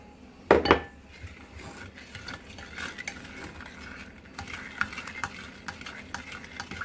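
A spoon stirs sugar into sweet and sour sauce in a pot, opening with a sharp clink against the metal, then continuing as a soft, steady scraping and swirling.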